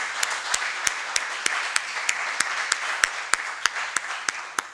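An audience applauds at an academic conference's closing session, a steady wash of many hands clapping at moderate distance with sharper individual claps ticking through it, no talking.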